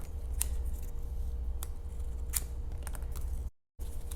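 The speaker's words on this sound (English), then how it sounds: "I'll take my scissors and just cut a little bit off." Scissors snip through washi tape in a few sharp, close cuts spread over four seconds, each a crisp brief click over a low steady room hum, with no talking.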